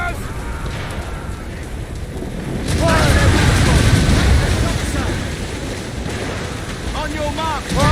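Mortar fire explosions during a naval battle in the video game Assassin's Creed Rogue, a heavy rumbling blast swelling in the middle under shouting voices, with wind and water noise throughout.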